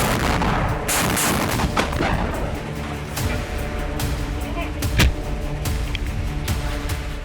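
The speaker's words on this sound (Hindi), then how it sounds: "ये एक एंटी बंकर मिसाइल है।" A Hamas Al-Qassam Brigades Al-Yasin anti-bunker missile attack, heard as repeated sharp gunshots and explosive bangs over rumbling battle noise, loud and close, with voices shouting in between.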